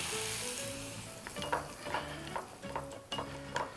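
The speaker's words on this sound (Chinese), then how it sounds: "我们把这个菜籽油烧了5成热之后呢，" Rapeseed oil heated and poured over dried chili threads, red Sichuan pepper, minced garlic and scallion, a soft steady sizzle with rhythmic stirring scrapes against the bowl, close and quiet with no talk.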